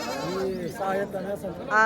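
A goat bleats in short wavering calls close by at a goat market in Parbhani, India, mixed with voices talking over it, with a louder bleat near the end.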